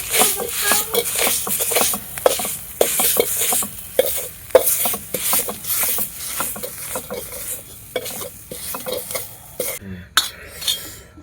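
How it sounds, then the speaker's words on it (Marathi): A copper pot grinds and scrapes roasted green chillies against a hard surface in a Marathi terrace kitchen, giving rapid repeated rubbing strokes, close and fairly loud, with a sizzling backdrop and no talk. "अशा पद्धतीने तांब्याने रगडून केलेला मिरचीचा ठेचा अतिशय छान लागतो."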